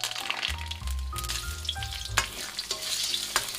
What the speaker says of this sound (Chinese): 把香味料加入锅中炒香